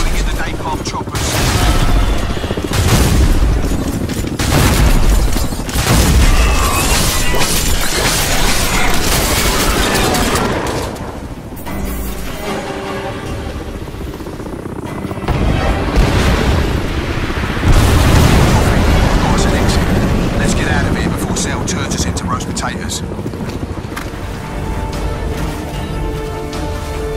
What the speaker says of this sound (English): Pulling in the napalm choppers.